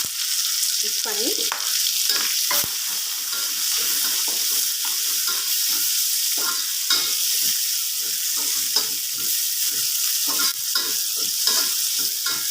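Continuous loud sizzling of onions sautéing in oil, with frequent scraping and stirring sounds from a spatula throughout, close up and without talk.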